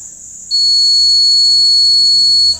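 A loud, steady high-pitched electronic alarm tone from a PIR motion sensor alarm sounds continuously, with a second piercing tone kicking in after half a second and holding until the end.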